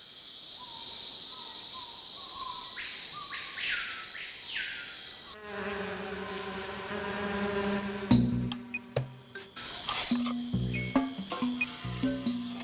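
Rainforest insects of the canopy and forest floor buzz and trill in a dense, steady high chorus, with cricket-like pulsing and passing fly or bee buzzes, then nearer rustling and clicking bursts join in the later part.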